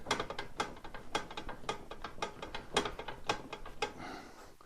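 A Titan 840i paint sprayer's fluid section being tightened gives a fast, continuous series of ratcheting clicks, close and steady, with no talk.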